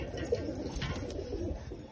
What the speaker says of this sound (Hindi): ये गोल्डन कबूतरी है भाई